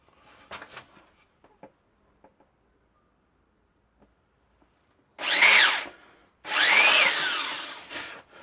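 A power drill bores holes into caravan cabinet doors in two loud whining bursts, each rising in pitch, after a stretch of quiet handling clicks and taps.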